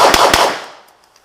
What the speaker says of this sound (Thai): กดเซฟแล้วก็ยิง5 นัด